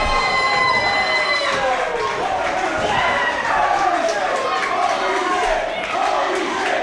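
A wrestling crowd in New York City roars and cheers after a back superplex off the top rope, a dense sustained wall of shouting voices with excited yells rising through it, loud and continuous throughout.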